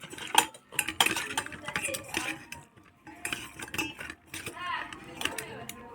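Fish being mixed by hand with salt and turmeric in a bowl gives soft, irregular clinks, scrapes and squelchy stirring sounds at close range, with a person talking over them.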